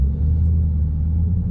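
Dodge Charger Scat Pack driving, a steady deep low engine rumble heard from inside the car, constant and fairly loud with no talking.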